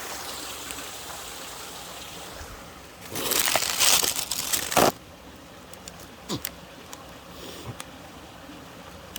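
A mountain valley stream flows with a steady, soft rush in the background, broken midway by a few seconds of louder rustling and crunching noise and later some scattered clicks.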